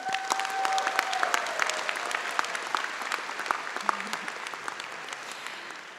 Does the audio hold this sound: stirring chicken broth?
no